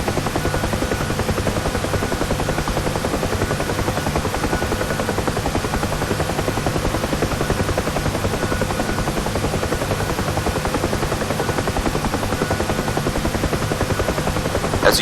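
A UH-1 Huey helicopter in DCS World, in a training landing approach to a runway, with its rotor and turbine drone running steady and loud throughout, no voices over it.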